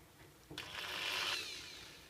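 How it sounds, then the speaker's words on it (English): A drill whirs into material for about a second after a sharp start, drilling a pilot hole for a drawer handle, a rising mechanical whine that fades out as the bit stops. "What I'm going to do is just drill the pilot hole through."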